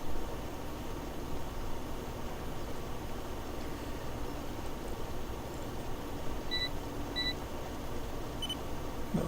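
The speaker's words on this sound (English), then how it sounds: "That little beep is to let me know I'm getting close to the edge of the field." Short electronic warning beeps from a tractor approaching the field edge in Farming Simulator 17, a few brief tones sounding over a steady engine and rain-like noise.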